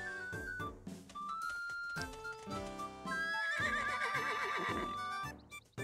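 A horse neighs in the video game Miitopia, a loud, drawn-out, wavering whinny over game music and sound effects, fading into a short quiet at the end.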